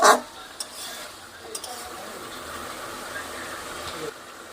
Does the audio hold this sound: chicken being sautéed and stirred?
yes